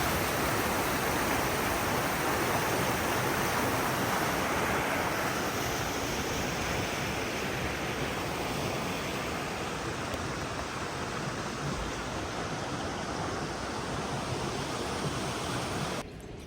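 Water rushes steadily beside the lake at Hallstatt, Austria, near a salt mine on a rainy day, a loud broadband roar of flowing water with some wind rumble, continuous and close.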